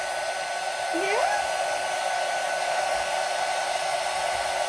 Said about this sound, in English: The dryer's on and you're not scared?